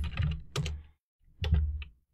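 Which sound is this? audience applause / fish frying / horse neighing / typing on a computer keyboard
typing on a computer keyboard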